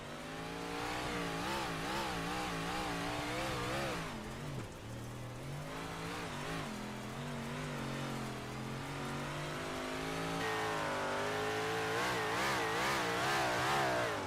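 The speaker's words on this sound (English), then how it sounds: "Listen to the throttle that these drivers have to use." A dirt race car engine at Oswego revs hard and continuously, pitch rising and falling with throttle changes over a bumpy straightaway, loud and close throughout.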